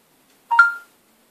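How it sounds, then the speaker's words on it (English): A smartphone on a Samsung Galaxy SIII or Apple iPhone 5 plays a single short incoming text message chime, a quick two-note electronic blip, clear and close in silence. "Here's the messages coming through on this one, just there."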